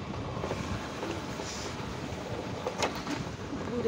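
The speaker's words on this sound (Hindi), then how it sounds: "हवा चल रही ठंडी ठंडी" Cold wind blows steadily across an open hillside path near the Chandi Devi temple above Haridwar, with a continuous broadband rush and occasional gusty swells and microphone buffeting.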